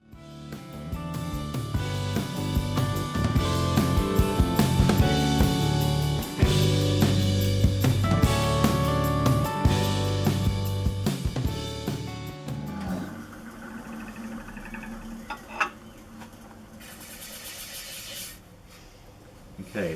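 A wood lathe spins a lacewood platter at 1200 RPM, giving a steady tonal whir with layered harmonics for most of the stretch before quieting near the end as cutting stops.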